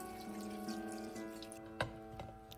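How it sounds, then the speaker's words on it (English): Water poured into mutton curry seasoned with salt and turmeric in a pressure cooker, a steady liquid wash with a brief splash near the end and a few faint drips, close by with no talk. "then add water."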